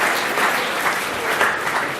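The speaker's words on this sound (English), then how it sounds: "give him a round of applause" Sustained applause from a large crowd at a school event, a thick, even roar of clapping at fairly high level with no pauses and no speech over it.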